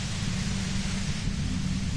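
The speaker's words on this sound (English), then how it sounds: "The violet white noise becomes even more overwhelming closer to the compressor." Dense, steady white-noise hum near a compressor in the Disco Elysium video game, a loud, unbroken rushing hiss with a heavy low rumble, alone with no talk.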